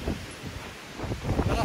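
Strong wind buffets the microphone in gusts at a spring mountain viewpoint in Banff, Alberta, rising louder toward the end, with a voice briefly talking amid the rumble.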